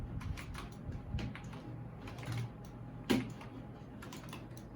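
Rapid clicking keystrokes on a SteelSeries Apex Pro gaming keyboard, a steady run of close, fairly quiet key presses with a slightly sharper clack near the middle.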